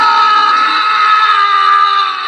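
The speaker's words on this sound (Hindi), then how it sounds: "झाड़ियों में उस आदमी की चीख गूंज गई" A man's scream of horror in a Hindi horror audiobook about a man dragged into the bushes, a loud, sustained, strained cry held steadily for about two seconds without a break.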